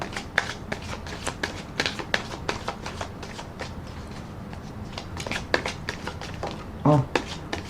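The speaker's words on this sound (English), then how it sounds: "I'm going to do another shuffle and rifle on the deck." A tarot card deck being shuffled and riffled by hand, with quick papery flutters and sharp card taps repeating in bursts, close and fairly quiet, ending in a brief denser riffle.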